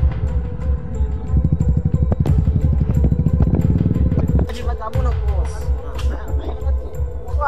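Royal Enfield motorcycle ridden off-road on a monsoon trail near Rajmachi, its thumping engine loud and close throughout, with rattling clatter and a few sharp knocks toward the end.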